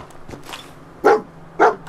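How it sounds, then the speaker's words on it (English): Dog companion in the video game Fallout 4 barks twice in quick succession, sharp and close, over quiet game ambience. "Good boy, Dogby."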